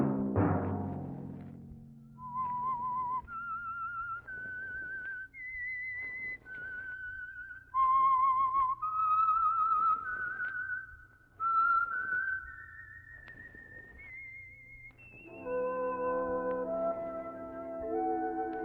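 A melodic whistled tune of rising, sustained notes in short phrases, clear and close, ending in a held high note over a low background hum.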